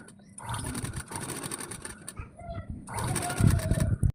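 A sewing machine stitches a baby frock in fast, steady mechanical bursts, pausing briefly in the middle before running again louder and close by.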